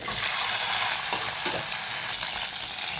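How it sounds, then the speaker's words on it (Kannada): Ginger, garlic and green chilli fry in hot oil in a pan, a steady close sizzle with some stirring, continuous for a few seconds with no voices. "ಎಣ್ಣೆ ಕಾದಿದೆ ನೋಡಿ ಇದು ಇಷ್ಟನ್ನು ಹಾಕ್ತೀನಿ ಇವಾಗ ಚೆನ್ನಾಗಿ ಗಮ್ ಅಂತ ಫ್ರೈ ಮಾಡ್ಕೋಬೇಕಿದು"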